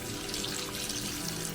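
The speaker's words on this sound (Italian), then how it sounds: "li andiamo a dare una sciacquata sotto l'acqua fredda" Cold tap water runs steadily into a sink as blue crab shells are rinsed beneath it, a continuous, fairly soft splashing rush with no voices.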